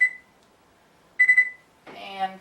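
Kitchen timer on an oven beeping as it is set for pie baking: two short, clear electronic beeps spaced about a second apart, followed by a brief burst of a voice talking.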